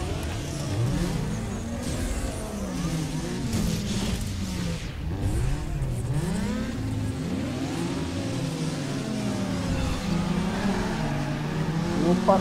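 Race cars in Need for Speed Underground 2 revving and accelerating through a circuit race, engines rising and falling in pitch continuously and loud, with no talk.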